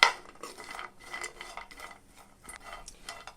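Dried dates stir-fried in ghee in a pan, with a soft scraping and clinking of a spoon against metal repeating steadily at close range, no voices.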